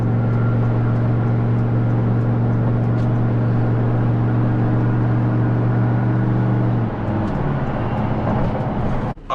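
A 2003 Hemi Ram pickup truck driving, its engine humming a steady low tone that drops in pitch near the end as it slows for a turn, with cabin road noise and a short knock at the very end.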